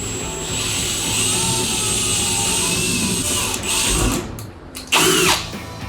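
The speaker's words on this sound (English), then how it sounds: "So it is plastic, so it drills super easy." A power drill fitted with a 25/64 bit bores into the plastic spoiler of a 2015-2023 Mustang GT Performance Pack, a steady close whirring drone that ends in a short louder burst as the bit breaks through.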